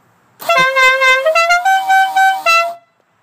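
A Dixie air horn powered by an air compressor through a relay and hoses plays its melodic tune loudly and up close, a run of sustained bright harmonic notes in quick succession lasting about two seconds, then stopping abruptly.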